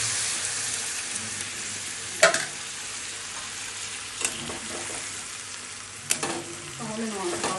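Hilsa fish curry with mustard paste cooks in a pan with a steady close hiss, broken by a few sharp knocks and scrapes of a stirring spoon.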